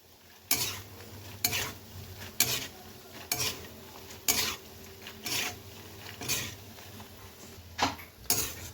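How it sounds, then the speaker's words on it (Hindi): Fox nuts (makhana) roasting in ghee in a wok, with a spatula scraping and stirring in a steady rhythm of about one stroke per second over a faint sizzle, close and without talk. "मखाने को सबसे लास्ट के अंदर घी में भूनना चाहिए"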